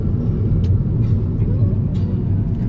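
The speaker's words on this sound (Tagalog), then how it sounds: "Traffic." Road traffic produces a continuous low, loud rumble with a few faint higher swishes passing over it.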